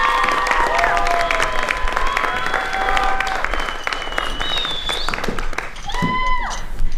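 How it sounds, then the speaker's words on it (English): Graduation audience applauding a high school co-salutatorian, a sustained wash of clapping with a few cheers and whistles mixed in, fairly loud and continuous throughout. "Please give her a round of applause"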